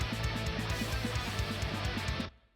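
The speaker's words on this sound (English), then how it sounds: "if you're using mild tube saturation and mild tape saturation" A warm, full music mix with mild tube and tape saturation on the mix bus, a steady pulsing beat and thick low end, playing loudly and then cutting off abruptly near the end.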